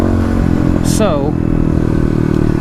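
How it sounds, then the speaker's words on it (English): A Kawasaki KLX351 dirt bike engine is run at wide open throttle, a loud, steady near-field engine roar that fills the short moment. "let's go ahead and test wide open throttle here"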